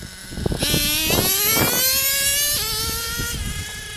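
A Traxxas T-Maxx nitro RC truck engine screams close by, its whiny pitch climbing through repeated revs, dropping briefly, then surging high again with a buzzy, raspy tone.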